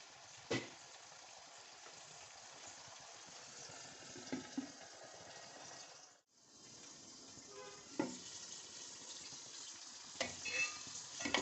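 Kofta biryani masala in a pot with water added, heating toward a boil with a low, steady bubbling hiss and a few soft clinks, faint and without voices.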